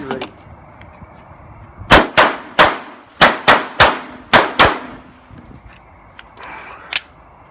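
An Avidity Arms PD10 pistol fires nine sharp, loud shots in quick irregular bursts, each crack ringing out with a short metallic decay, followed by a single later shot at a distance.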